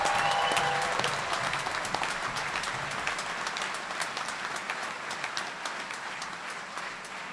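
A graduation audience breaks into sustained applause for the graduates, a dense wash of clapping from many hands that starts loud and slowly tapers over several seconds, filling a large hall.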